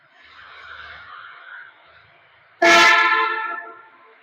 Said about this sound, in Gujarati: આની અંદર હોર્ન મારીએ ને એટલે બહુ અવાજ આવે